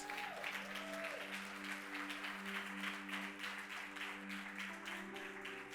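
A church congregation at a Sunday service applauds loudly, continuous clapping over a sustained music or organ drone, with some voices mixed in.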